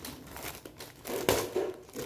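Packaging torn open by hand during a child's unboxing, a short run of crinkling and ripping with one sharp tear in the middle, close and fairly quiet with no talk.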